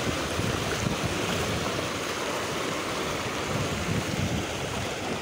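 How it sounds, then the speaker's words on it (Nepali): A flooded river swollen by heavy monsoon rain rushes past, a steady broad roar of turbulent water, close and continuous, mixed with some wind noise. "एउटै हाम्रो खोलामा कति पानी"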